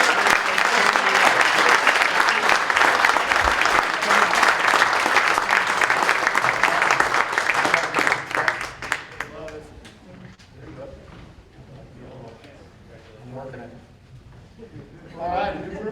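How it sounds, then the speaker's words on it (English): Audience applause for a group of kids at a school awards ceremony in a high school setting, loud sustained clapping for about eight seconds that fades away, followed by quieter murmuring and scattered sounds. "one last round of applause, please, kids."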